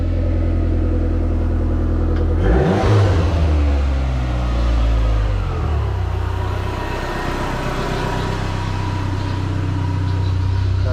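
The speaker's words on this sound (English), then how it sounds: "I'm just getting a real quick sound clip of the exhaust before we stick the aftermarket 3-inch on" A Dodge SRT4 on its stock exhaust fires up and runs; a starter crank gives way to a rising rumble, then a steady, fairly quiet low idle close by.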